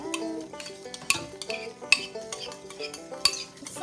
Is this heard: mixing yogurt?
yes